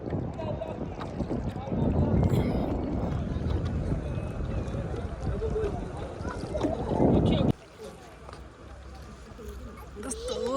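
A boat ride on the Dawki river near Shillong, with steady wind rush and water and motor noise under talking voices, loud for most of the stretch before dropping abruptly to a quieter hum near the end.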